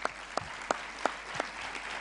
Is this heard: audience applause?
yes